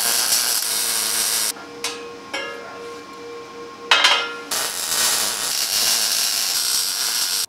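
Steel hairpin table legs held by right-angle magnet clamps to a 38-inch spreader bar are tack welded, a loud steady sizzling crackle broken by a quiet gap with brief clicks, then resuming close by.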